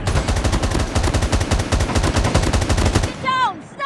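Rapid automatic gunfire rattles in a steady, loud stream of bursts during a Call of Duty Mobile ranked match, then cuts off and gives way to short electronic beeps and chirps.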